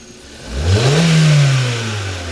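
A Hyundai Accent 1.6 GDI engine with an injector problem is revved once, a single loud rise in pitch that holds and slowly falls back toward idle, close by, with no talk.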